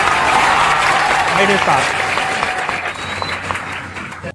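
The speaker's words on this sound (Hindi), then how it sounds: "एक बार हम यह चाहते हैं कि आप अपने लिए एक बार फिर से ताली बजाइए" An audience claps in a dense burst of applause that fades gradually while someone speaks over it.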